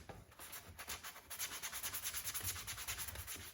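A wooden take-down recurve bow hand sanded with 120 grit sandpaper, quiet close rhythmic rasping strokes that settle into a steady back-and-forth scrub.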